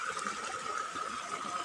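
Steady rush of water flowing from a waterfall toward a swimming pool in Northern Samar, a continuous even gush heard close by with no clear voices.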